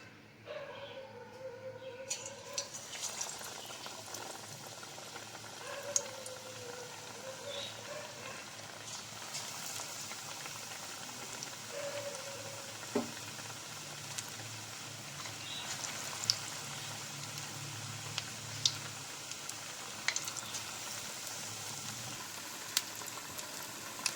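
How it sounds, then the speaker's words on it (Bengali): Cauliflower florets dipped in batter fry as pakoras in hot white oil, making a soft, even sizzle with faint crackles and pops that holds steady throughout. "এবার আমি ব্যাটারে চুবিয়ে ফুলকপিগুলি ভেজে নেবো"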